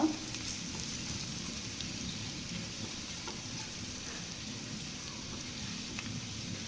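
Spiced mash fries steadily in a pan, seasoned with coriander and turmeric, after mashed potato is added; a close, continuous sizzle with light stirring runs throughout, no voices.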